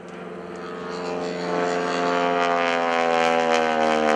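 A 600-horsepower aerobatic airplane at the 2013 Greenwood Lake airshow, its propeller engine droning loud and steady, building slightly in intensity as it maneuvers, with no talk over it.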